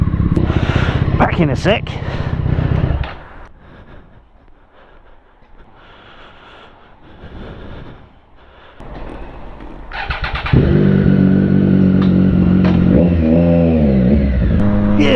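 A motorcycle rumbles and revs up close as it pulls into a petrol station, its engine fading to a quieter idle before roaring back loud, with a rider speaking briefly.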